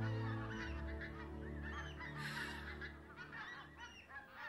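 A flock of geese honks overhead in a Chicken Run film scene, several overlapping calls ringing out clearly over a low sustained musical tone.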